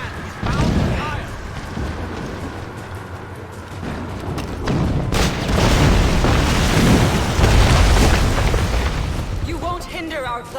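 Mortar rounds fire and explode in Assassin's Creed Rogue, bringing deep booms and rumbling blasts through most of the stretch. In-game voices speak over the mix.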